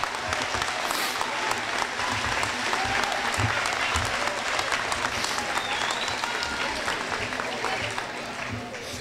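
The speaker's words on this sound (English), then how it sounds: "He deserves a round of applause." Sustained audience applause at a 2012 Westmont Junior High graduation ceremony, welcoming the incoming principal; dense, steady clapping from a large crowd fills the room at even loudness for the whole stretch.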